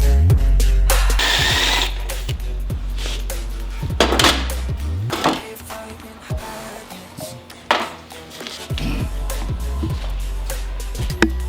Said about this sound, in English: Next step, step drill.